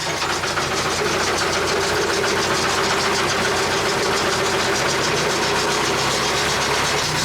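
A narrowboat engine runs steadily in reverse with a loud, rhythmic low chugging throughout, no voices.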